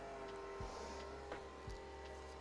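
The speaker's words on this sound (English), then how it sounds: "loud engine noises from outside." A neighbor's strimmer engine runs steadily outside, a constant low droning hum heard from a distance with a few faint knocks over it.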